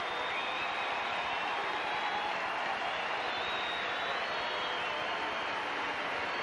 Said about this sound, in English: Getting a big hand from the crowd.